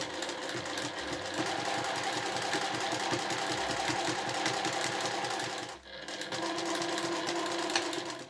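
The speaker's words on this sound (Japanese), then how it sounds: "そしたらこちらは際を縫っていきます。" Steady, fast mechanical stitching of a sewing machine running along the folded edge of cotton fabric, a continuous close rhythm with one brief pause near the end before it resumes.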